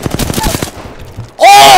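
Rapid Apex Legends gunfire crackles in a loud close burst, stops briefly, then another blast with a ringing tail comes in at full volume.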